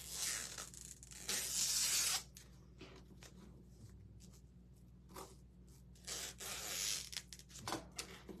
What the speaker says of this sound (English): I just take my scissors along the lines